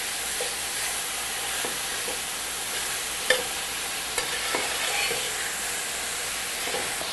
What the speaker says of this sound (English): meat in, and this is where we want to keep stirring to make sure that the meat crumbles completely.